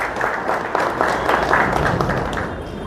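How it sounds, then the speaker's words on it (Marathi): Applause from a gathering at an OBC youth activists' meeting in Pune, many hands clapping steadily at moderate loudness for a few seconds. "एकदा त्यांच्यासाठी जोरदार आपण टाळ्या वाजवा।"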